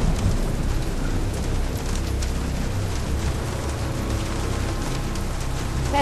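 Rain pours during a thunderstorm in Jurassic Park The Game, a dense, steady hiss of heavy rainfall with low rumbling beneath, constant throughout.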